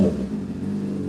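A motorcycle engine holding a steady, rough idle-like drone close by, with no clear climb toward its 16,000 rpm redline in this moment.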